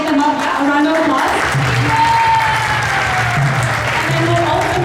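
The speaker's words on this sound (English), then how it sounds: "A round of applause" Applause from a congregation at a Sunday love feast in a temple hall, clapping mixed with sustained tonal voices or chanting and crowd murmur, loud and continuous.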